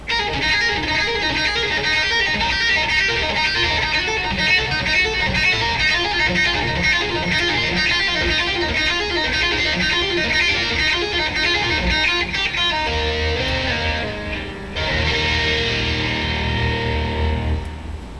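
Distorted electric guitar plays a fast, chugging palm-muted open-string pull-off riff with clipped, staccato notes, continuous and loud throughout.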